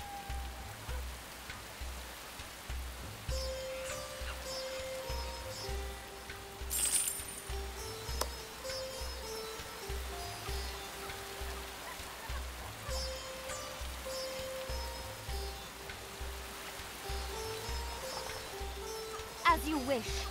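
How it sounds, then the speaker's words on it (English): Rain falls steadily in the video game The Settlers Rise of an Empire during the rainy season, a soft constant patter under game music and occasional clinking interface sounds throughout. "The rainy season has set in."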